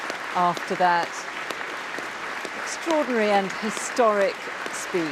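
A crowd in the Royal Gallery applauds Irish President Michael D. Higgins, the clapping a steady wash running under a commentator's voice throughout.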